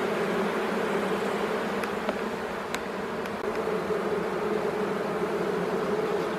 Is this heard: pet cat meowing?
no